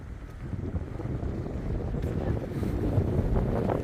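Wind blows steadily along a seaside shore with a walkway stretching out over muddy water, producing a constant rumble of wind noise on the microphone that swells slightly toward the end.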